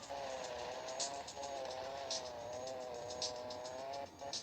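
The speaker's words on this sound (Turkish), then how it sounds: "Fazla kaymıyor araba." Bugatti Veyron sliding across desert sand, a steady engine drone with a wavering note and faint scraping bursts throughout, heard from inside or nearby at moderate loudness.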